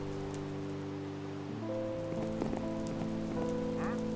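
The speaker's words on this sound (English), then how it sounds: "Oh, it's still raining." Rain falling in the video game Minecraft, a soft steady patter that runs under sustained game music tones and a few faint clicks, fairly quiet throughout.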